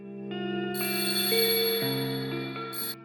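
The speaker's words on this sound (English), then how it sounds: "Now the telephone sounds like it's ringing in a big cave-like environment." A telephone rings with a big cave-like reverb, its layered electronic ring tones loud and sustained, trailing into a long echoing tail with no voices.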